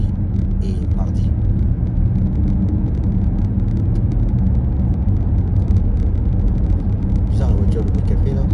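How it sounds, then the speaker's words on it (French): A car on a cold day making an odd noise, heard as a steady, loud, close engine rumble that continues throughout with no break. "Bizarre la voiture, le bruit qu'elle fait là."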